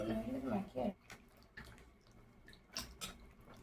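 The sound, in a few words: water running while washing peeled pointed gourd (potol)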